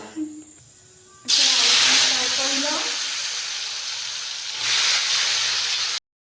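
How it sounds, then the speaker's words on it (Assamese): Potatoes fry in hot mustard oil in a kadai, a sharp sizzling hiss that bursts up loudly, settles into a steady crackle and swells again, close and clear, with a faint murmur before it. "এইফালে গাইছ আলু ফ্ৰাই কৰি ল'লোঁ আৰু আলুখিনি ৰঙাকৈ ফ্ৰাই কৰিছোঁ"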